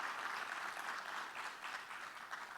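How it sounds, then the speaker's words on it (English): Audience at a blockchain hackathon awards event applauds the participants, a soft, distant, continuous wash of clapping in a large room. "Give applause to you, to yourself"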